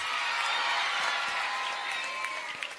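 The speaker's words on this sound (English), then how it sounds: "Let's all give applause." Schoolchildren applauding in a classroom during a visit, a steady wash of clapping and crowd noise at moderate distance, with faint voices mixed in.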